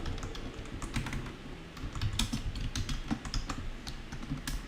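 Typing code on a computer keyboard, a steady close run of quick clicking keystrokes with occasional louder taps, continuous with no talk.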